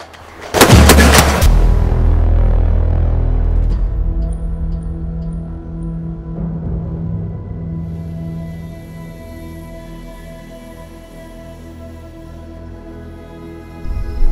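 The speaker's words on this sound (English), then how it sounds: "I thought I'd share with you today shooting steel" One loud 5.56/.223 rifle shot at a steel target on a gun club range, a sharp blast followed by a long ringing, slowly fading decay, with no talking.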